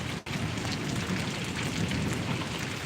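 Heavy rain pours steadily in Paravadi village, Gariadhar taluka, a dense, even hiss of downpour close by with no talk, broken by one brief dip near the start.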